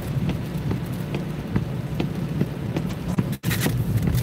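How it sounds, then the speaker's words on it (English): Rain falls during an evening of Uber Eats delivery driving, a steady low rumbling wash of drops with scattered sharper taps, continuous and moderately loud, briefly cutting out for an instant before resuming. "Yeah, it's raining right now."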